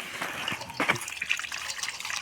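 Tap water runs and splashes while food is rinsed during a family winter picnic cooking session, a short close trickle with small splashy bursts and no talking.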